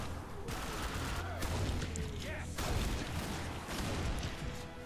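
Gunfire in the video game The Darkness 2 from an overpowered gun, a dense, continuous roar of heavy shots and crashing blasts that swells and recedes across the whole stretch without pause.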